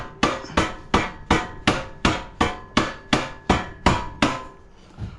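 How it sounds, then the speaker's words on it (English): Eleven evenly spaced, solid blows from a rubber mallet striking metal, each a sharp thud with a brief ringing decay, close and steady in rhythm. "using a rubber mallet here"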